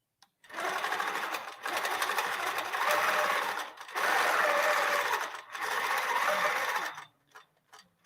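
A Q'nique 15 quilting machine stitching in four long runs, with a steady, loud, buzzing mechanical rattle and short pauses between runs, heard close up with no talk.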